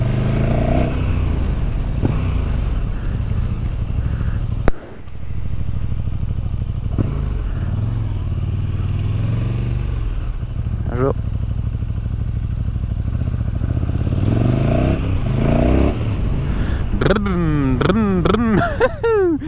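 A KTM 1290 Super Duke R motorcycle engine rumbles and revs up, with a sharp clack partway through and rising, whining acceleration near the end, heard close and loud under occasional talk.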